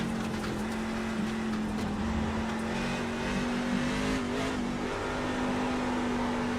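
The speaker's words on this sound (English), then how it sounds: "I love these trucks. They're just one of the coolest cars in Sim, in my opinion. They just sound so cool." Racing truck in a sim racing game revs hard, a loud continuous engine roar holding a strong steady tone with slight pitch shifts, no talking.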